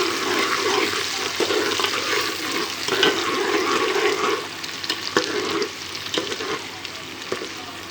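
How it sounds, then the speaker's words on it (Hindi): Onions sizzling and frying in a pan with cumin seeds in hot oil, a steady close crackle with occasional stirring clinks, no talking. "प्याज को हम हल्का गुलाबी होने तक फ्राई करेंगे"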